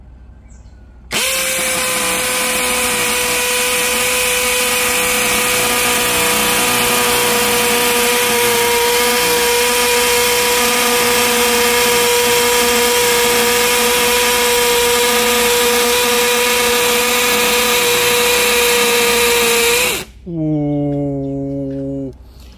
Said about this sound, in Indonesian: Sekarang kita akan mengebor konblok beton.